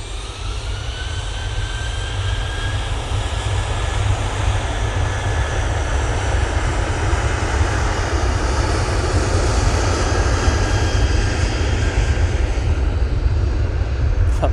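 An airplane taking off at Manchester Airport, a loud steady engine roar with deep rumble and broadband hiss holding constant throughout, no talking.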